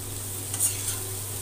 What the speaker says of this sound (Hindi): इसमें डालेंगे कटी हुई शिमला मिर्च, चला देंगे।